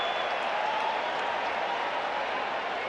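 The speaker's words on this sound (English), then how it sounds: "the crowd noise grows even more" Stadium crowd at a 1995 Colorado Rockies home playoff game against Atlanta, a steady, dense roar of cheering and applause that holds level throughout, with no distinct individual voices.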